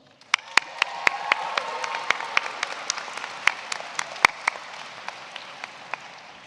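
Applause from a law school commencement crowd: a soft continuous patter of many hands, punctuated by sharp individual claps close by, gradually fading over several seconds.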